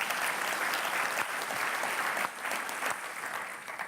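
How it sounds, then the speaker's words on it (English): A crowd at a business talk breaks into sustained applause, a thick wash of many hands clapping at even loudness with a brief dip midway, no speech on top. "I think that was just a round of applause for Andrea."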